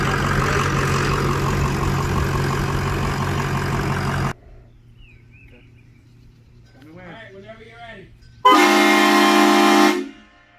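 A HornBlasters Conductor's Special 2485 NIGHTMARE Edition train horn mounted on a truck blasts once, loud and close, for about two seconds near the end, after a long droning engine-like roar and a quiet stretch with some talking.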